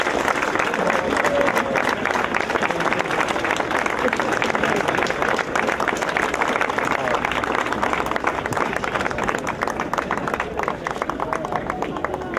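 Sustained audience applause welcoming racing driver Michael Schumacher at a 2011 interview event, a dense steady wash of clapping and crowd noise throughout with voices mixed in.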